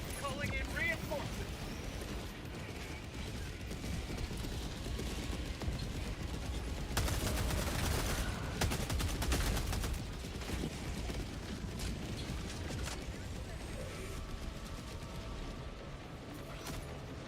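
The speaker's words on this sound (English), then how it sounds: "They keep strafing the fuck out of all of us, too." Enemy strafing gunfire in the video game Helldivers 2, a dense rattling barrage that swells loudest in the middle of the stretch over constant game noise and mechanical clatter, with a player talking over it.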